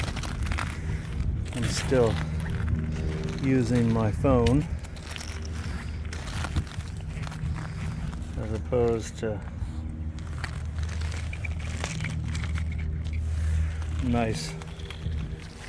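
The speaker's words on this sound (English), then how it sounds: "Sorry for the wind noise." Wind buffeting an outdoor phone microphone on a rockhounding outing, steady low rumbling gusts throughout, with a person talking over it and occasional crunching of rocks being handled.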